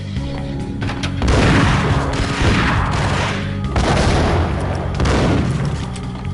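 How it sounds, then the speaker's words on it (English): Grenades blast in Max Payne: heavy booming explosions, two main detonations about three seconds apart, loud and close, with crashing debris and gunfire around them. "Definitely another grenade one."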